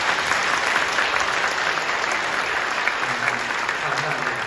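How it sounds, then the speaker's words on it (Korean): A church congregation applauds at a Holy Week special dawn prayer service, a steady, dense wash of clapping that fills the room evenly for several seconds at full volume. "박수 한번 해주시죠."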